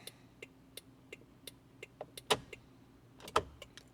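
A Toyota FJ Cruiser's left turn signal ticks in a steady, regular rhythm, with brief clicks spaced about a third of a second apart and two louder clacks partway through, all fairly close and clear over a low idle hum.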